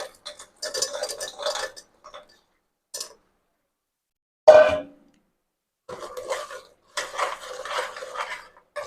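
Sugar-coated gavvalu being tipped into hot sugar syrup in a pan, with scattered clinks and scraping from utensils against the pan in short bursts, one sharper knock midway, and pauses of near silence between.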